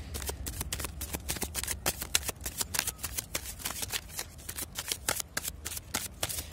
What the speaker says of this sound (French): Je continue quand même à battre mes cartes.